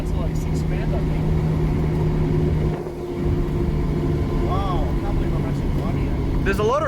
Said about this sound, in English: There's a lot of road noise.